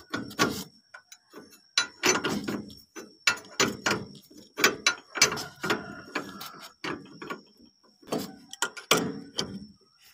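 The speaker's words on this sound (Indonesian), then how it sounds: "Oke, sekarang kita kencangkan mur bagian belakang." A wrench tightening the rear nut on the front stabilizer bar of a Mitsubishi L300, close by, a repeated series of sharp ratcheting clicks and metallic clacks in irregular bursts with short pauses between.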